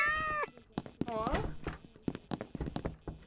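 A cat in a janitor video game meows in a drawn-out, rising and falling cry, with a second shorter meow, closely overlapped by steady talking and scattered clip-clop sounds.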